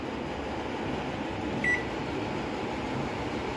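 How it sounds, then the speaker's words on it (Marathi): A microwave oven being set to preheat to 180 degrees, giving one short, faint beep over a steady, quiet background hum. "आता आपल्याला मायक्रोवेव्ह ओव्हन प्रीहीट करून घ्यायचा आहे 10 मिनिटांकरता. तर मी सेट करत आहे."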